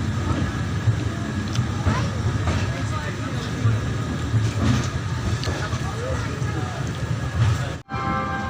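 The Lichhavi Express pulls out of Prayagraj station, a steady low rumble of rolling wheels and rail noise with faint clanks throughout, ending in a brief dropout.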